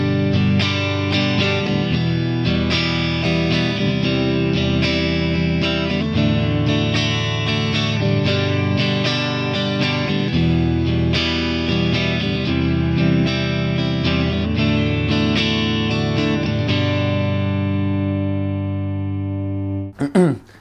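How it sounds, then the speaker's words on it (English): Strummed electric guitar chords, a steady, even rhythm of full chords with an effects-coloured tone, loud and continuous for about twenty seconds before a final stop. "And strumming would sound like this."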